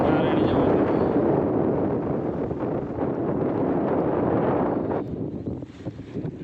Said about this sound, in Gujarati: અને પવન એ જોરદાર પવન ઉપડી ગયો